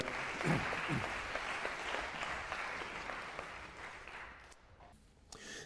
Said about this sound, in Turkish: Hoblitler, hoblitlere alkış lütfen.